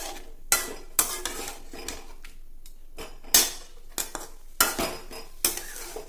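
A spoon stirs bitter gourd pieces mixed with curd in a metal vessel for kondattam, giving sharp scraping clinks at irregular intervals, close and clear with no talking.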